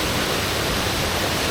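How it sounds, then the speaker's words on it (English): Harmby Waterfall in Yorkshire pours as a steady, loud broadband rush of falling water, constant and unbroken throughout with no voices. "that's Harmby Waterfall"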